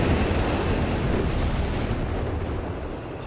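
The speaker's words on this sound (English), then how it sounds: "quickly hit with that sticky bomb there" Sticky bomb explosion in Company of Heroes 3 hits an enemy armored vehicle: a loud deep blast followed by a sustained rumbling roar that slowly tapers, with no voices.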